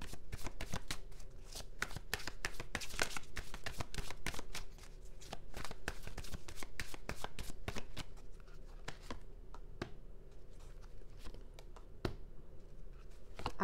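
Tarot cards are shuffled by hand during a reading, a rapid, close series of crisp flicking and riffling snaps that continues steadily throughout, fairly quiet, with no speech.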